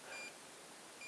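Two faint electronic beeps from a Xiaomi Ninebot electric scooter signalling an error code, a longer tone followed by a short one, sound over a steady hiss of background noise.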